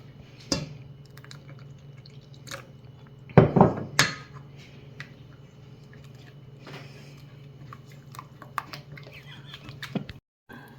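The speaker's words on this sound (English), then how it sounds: "all this milk's going to get mixed in" Milk is mixed into pancake batter in a bowl with soft liquid sloshes and drips, a burst of clattering utensil knocks against the bowl near the middle, and quieter scattered taps afterward.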